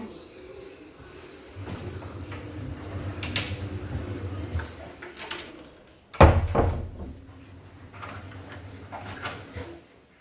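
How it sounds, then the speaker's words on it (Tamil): A home door creaks as it swings and then shuts with a loud, close thud partway through, followed by mechanical rattling, while someone talks in a kitchen. "கதவை சாத்திக்கலாங்க."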